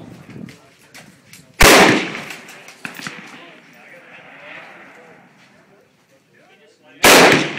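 Two sharp, loud gunshots ring out close by, several seconds apart. Quieter talk and movement fill the gap between them.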